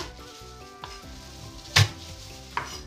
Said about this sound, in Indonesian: Di sini saya menggunakan 2 siung bawang putih. Nah, digeprek ya teman-teman.